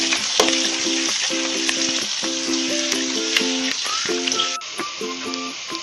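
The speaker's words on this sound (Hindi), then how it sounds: "पैन में हम ऑयल गरम कर लेंगे, इसमें अनियंस डालेंगे। अब इसको हम सौटे कर लेंगे।" Chopped onions sautéing in hot oil in a pan for a spinach soya chaap dish, a loud close sizzle running throughout beneath prominent repeating musical tones.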